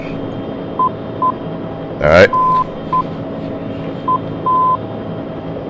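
Morse code identifier tones from a navigation radio beacon, short and long steady beeps repeating at a measured pace over constant radio hiss, with a brief spoken word and a click partway through.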